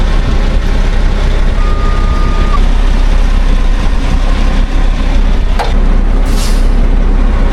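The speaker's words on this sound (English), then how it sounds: "I believe they call that truck War Machine." The engine of a HEMTT 10x10 military truck idles loud and steady nearby, a sharp air-brake hiss bursting out near the end.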